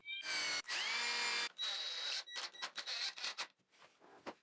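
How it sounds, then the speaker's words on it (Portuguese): A power drill drives fixing screws into a table saw jig in a workshop, with several short bursts of whirring motor and stops between them, close and clear. "então prendo com alguns parafusos de fixação"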